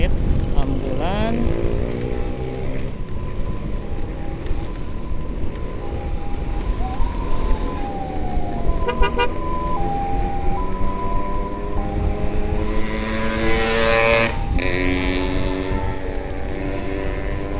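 An ambulance siren wails intermittently, rising and falling over heavy, steady engine and road noise, on the Nagreg downhill road in Indonesia.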